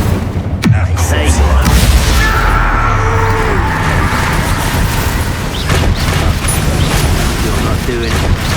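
A Confringo fire-blast spell explodes in the Hogwarts Legacy video game: a heavy booming blast amid a dense, loud battle din of magical impacts and rumbling, with voices talking throughout.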